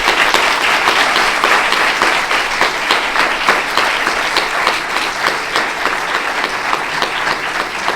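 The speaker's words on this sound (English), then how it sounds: "this is the moment to thank Professor Mather with a big applause" A large audience gives sustained, dense applause for Professor John Mather after his physics and astronomy lecture, loud and steady throughout with many hands clapping together.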